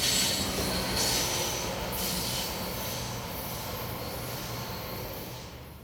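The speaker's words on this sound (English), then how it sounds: "This is the time the juice train normally passes through this part of Florida." A CSX juice train, a freight train, rolls past on the Florida S-Line with loud screeching wheels and a heavy rumble, gradually fading as the cars move on.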